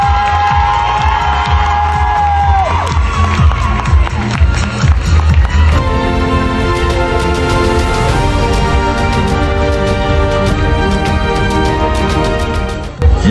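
A crowd at a club dressage championship podium claps and cheers throughout, loud and sustained, with music playing alongside and an announcer's voice heard early on.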